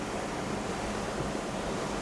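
A mountain river rushes down from above near Shinkula Top on the Ladakh route in cold weather, heard as a steady, loud, broadband roar of flowing water with no break for two seconds and no voices.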